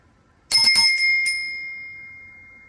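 A small handheld bell rung a few times in quick succession, bright and close, its metallic tone lingering and slowly fading after the last strike.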